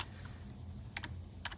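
Keys tapped on a computer keyboard while a school librarian catalogs purchased books, heard as two short bursts of quick clicks over a low background hum.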